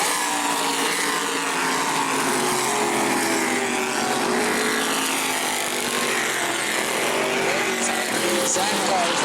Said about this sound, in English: These tour-type modified chassis with 602 motors